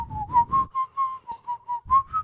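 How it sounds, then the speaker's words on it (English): A man whistles a smooth, steady melody, the sustained notes rising and falling in a short phrase, close and clear, with faint breathy accompaniment between notes. "I can whistle really, really well."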